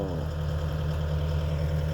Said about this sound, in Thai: ยืนรอเวลาผ่อนก็จะเครื่องยนต์อิซูซุก็จะทำงานดัง